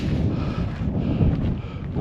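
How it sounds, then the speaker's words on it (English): Wind buffets the microphone on a cold, windy mountain trail in Los Angeles, a loud, continuous low roar and rumble with no voices heard. "It's breezy out here"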